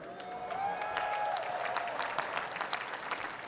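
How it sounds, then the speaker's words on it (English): Graduates and guests applaud at an MIT special ceremony for the classes of 2020 and 2021, sustained clapping from a large crowd that swells early then tapers slightly, with a few whoops rising above it. "Anytime you feel like applauding, just go ahead."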